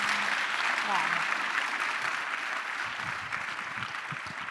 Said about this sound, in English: give us a round of applause for these courageous